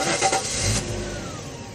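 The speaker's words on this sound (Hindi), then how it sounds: "गाड़ी स्टार्ट नहीं हो रही है" A recently serviced car's engine cranks but won't catch, a rapid whirring churn up close for under a second, followed by a low, uneven mechanical rumble.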